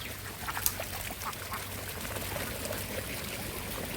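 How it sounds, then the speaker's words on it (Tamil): Ducks kept in a rice paddy quack faintly and intermittently at a distance, with a soft trickle of water underneath. "வாத்து வைக்கிறாங்க வயலில்."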